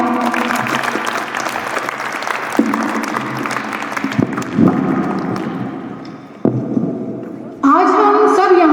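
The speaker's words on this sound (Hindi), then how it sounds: "प्लीज़ तालियां।" Sustained crowd applause at a school annual function, loud and continuous with a dense clatter of many hands, while someone speaks over a microphone and the clapping swells again near the end.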